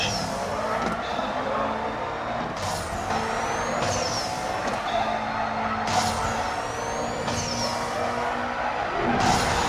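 Race car launching hard in the mobile racing game Need for Speed No Limits: a loud, continuous engine roar with tire noise and repeated rising whooshes of gear shifts, no talking.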